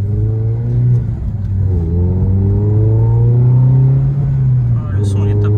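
A Renault Clio 3 RS Cup Sport Auto Edition 2.0 with 203 hp accelerates, its engine note climbing smoothly and then easing off, heard from inside the car with a slight dip around the middle.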